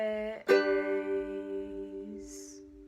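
A ukulele is strummed with a single down stroke that rings out and slowly decays, a close, clear chord sustaining alone before a faint brushing sound near the end.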